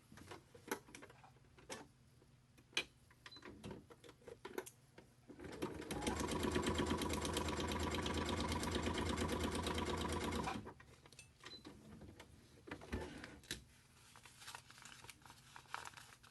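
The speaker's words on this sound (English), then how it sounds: "So now I'm going to sew that edge together." A sewing machine stitches the edge of a paper-pieced heart, a steady run of about four seconds at moderate volume, with quieter handling ticks and rustles before and after.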